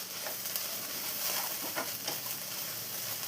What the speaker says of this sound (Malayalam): ഇതുപോലെ ഹൈ ഫ്ലെയിമിൽ വെച്ച് നമ്മൾ നന്നായി ഇളക്കി ഒന്ന് ഡ്രൈ ആക്കി എടുക്കണം.